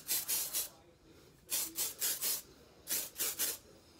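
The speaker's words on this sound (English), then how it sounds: "how we're gonna hairspray it is you're gonna hairspray it, hone it up, and from the bottom" Hairspray hisses onto hair in quick groups of three or four short bursts, separated by brief pauses, close and fairly soft.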